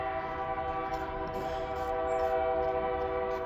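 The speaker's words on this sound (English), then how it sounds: "that train is quite a ways away. It's just the wind that's making it loud, bringing it to us" A far-off train rumbles and drones outdoors, its sound carried on the wind, with a sustained tonal hum like a horn holding steady under a breezy background for the whole stretch.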